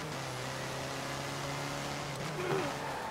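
Volkswagen Beetle engine in Forza Horizon, a steady low mechanical drone that hums evenly at moderate loudness, with a slight rise toward the end.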